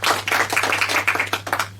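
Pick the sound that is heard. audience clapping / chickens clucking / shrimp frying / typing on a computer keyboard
audience clapping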